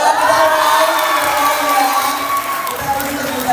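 A crowd cheering and applauding at a fan meeting in Bali, a loud, steady roar of shouts and claps filling the whole moment, close and dense, with a voice speaking over it.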